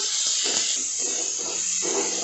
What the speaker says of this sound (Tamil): சின்ன வெங்காயம் பொடியாக கட் பண்ணி வச்சுருக்கேன், சாம்பார் வெங்காயம். அதுக்கப்புறம் மீதி தக்காளி இதை போட்டு நல்லா கிளறா வதக்கணும்